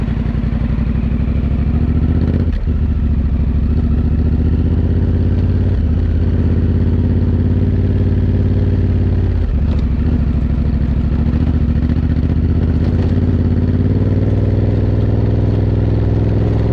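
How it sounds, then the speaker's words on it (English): A motorcycle engine drones steadily and loudly on a backcountry trail ride along the Idaho Backcountry Discovery Route, with a few sharp clatters and slight shifts in pitch as it rides along. "Just another good old day on the motorcycles."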